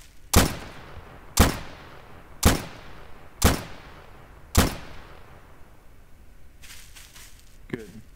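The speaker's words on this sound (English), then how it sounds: "Fire 5 bullets to the target" Five loud, sharp gunshots fired one after another at about one-second intervals at a target in a 1944 US military roleplay video game, followed by faint rustling and a small click.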